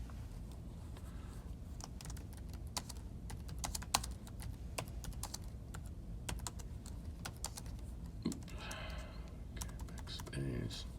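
A computer keyboard gets steady, quiet typing up close, with rapid irregular key clicks running throughout and a few sharper taps, while a person speaks softly between the keystrokes.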